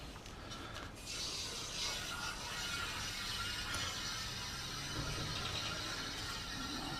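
A valve being opened to refill a 1 pound propane cylinder, giving a steady hiss of gas flow with faint mechanical clicking over a constant close background.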